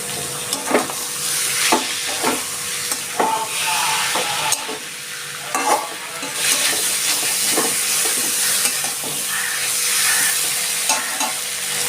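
Parboiled stems, lightly boiled with salt and turmeric, frying in a pan with a steady sizzle and hiss, punctuated by repeated clinks of a spatula stirring against the pan.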